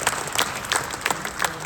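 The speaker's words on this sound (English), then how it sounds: "let's give them a big applause" Audience applause for GWM at a Malaysian car launch of the Wey G9 Hi4 PHEV, a short, moderately loud patter of clapping with a few sharper accents.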